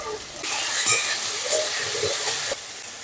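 Potato pieces frying in hot oil for a Bengali drumstick-flower chorchori, a steady close sizzle with faint stirring clatter, starting abruptly and cutting off near the end.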